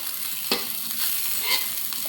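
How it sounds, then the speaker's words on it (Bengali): Ginger fries lightly in a pan with a continuous hiss and sizzle. A few stirring scrapes rise above it, close and steady, and no one speaks. "আদাটা হালকা একটু ভেজে নেব।"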